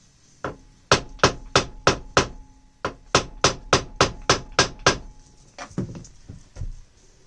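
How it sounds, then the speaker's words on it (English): Small hammer striking a Harbor Freight chain breaker, a run of sharp metallic taps in quick even bursts of about five and seven blows, loud and close, ending in a few looser, softer knocks. "small hammer."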